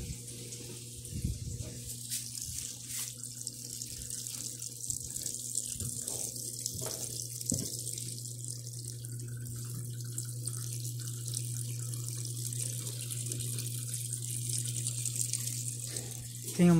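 An Electrolux LM 08 8 kg washing machine fills with water set to the high level, a steady running-water rush with a low hum continuing throughout, with occasional small knocks.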